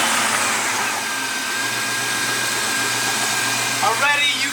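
A car engine idles steadily after an oil change, a close, even mechanical drone in an echoing enclosed space, with a brief higher whine near the end.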